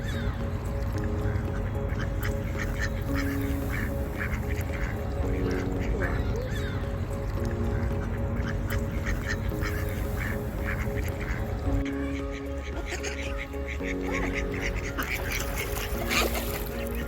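Ducks quack repeatedly in a park pond at St. Stephen's Green in Dublin, near and fairly loud against a busy outdoor background, with faint voices in the mix.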